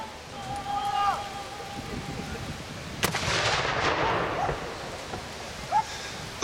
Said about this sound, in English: the two-pounder anti-tank gun